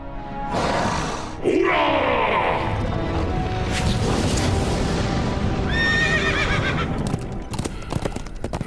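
A horse whinnies loudly, followed by clip-clopping hooves and snorts, then another high neigh near the end, all close and prominent.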